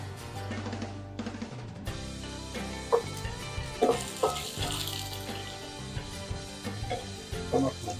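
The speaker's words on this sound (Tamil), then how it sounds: "எண்ணெய் சூடு ஏறிச்சு, பச்சை வேர்க்கடலை போட்டுக்கலாம், வறுத்துக்கலாம்." Peanuts and small shallots frying in hot oil for a Tamil peanut chutney, giving a steady low sizzle with scattered clinks of a stirring utensil against the pan, close and moderately loud, with no talk.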